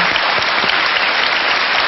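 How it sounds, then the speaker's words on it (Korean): A studio audience at a Korean lecture show breaks into dense, even applause, loud and continuous without any voice over it. "여러분 다시 한번 박수 부탁드리겠습니다"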